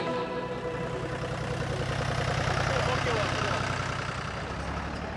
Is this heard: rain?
no